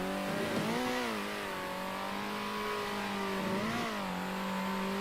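Race car engine in the video game Circuit Superstars during an endurance race, a steady mid-pitched drone held on a smooth throttle, rising briefly twice with gentle revs, no talk.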